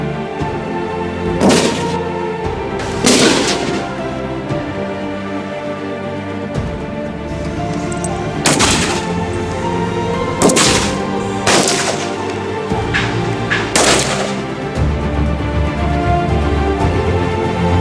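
Gunfire from police Brimob firearms training at a shooting range in Aceh, with a series of sharp, loud shots cracking out at irregular intervals over a continuous background hum.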